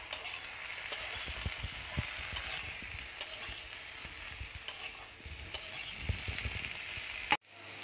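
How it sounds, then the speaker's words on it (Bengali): Raw mango pieces fry in a pan, a soft continuous sizzle with scattered stirring scrapes, then a sharp knock near the end, with no one talking. "এবার আমি কাঁচা আমটা দিয়ে দিচ্ছি, আম দিয়ে একটু ভেজে নেবো।"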